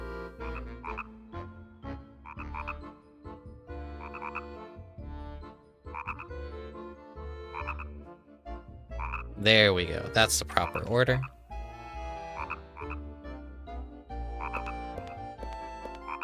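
Frogs croaking steadily in The Nightmare Before Christmas: Oogie's Revenge game, a rhythmic chorus of repeated croaks under game music, briefly overlapped by a loud burst of other effects, with a person talking over it.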